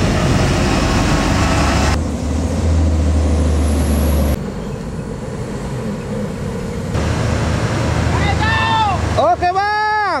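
A loaded Hino truck on the eastern Sumatra highway produces loud, close engine rumble with strong wind noise, followed by shifting tones that rise and fall like horn or air-brake sounds near the end.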